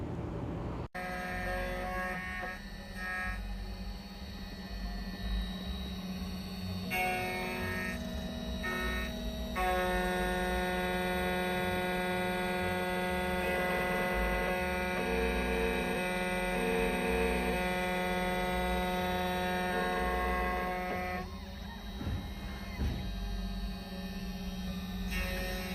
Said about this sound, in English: I'm gonna press continue, and it's gonna cut our key